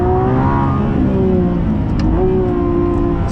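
A Lamborghini Revuelto accelerating hard, its engine note climbing loudly from inside the car, breaking briefly at a quick gear shift and then rising again.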